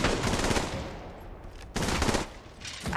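Automatic gunfire in Apex Legends Mobile: a sustained rapid burst, a short lull, then another dense volley, loud and close throughout.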